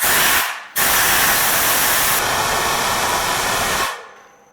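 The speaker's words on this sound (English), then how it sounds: "you can even blow the air inside the turbine house" Compressed air blasts into a turbocharger turbine housing during a home repair: a brief loud hiss, a short gap, then a steady, forceful rushing blow for about three seconds that fades out.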